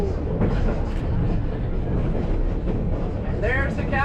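The White Pass & Yukon Route summit excursion train rumbles along with a continuous low, heavy roll, and a voice speaks briefly near the end.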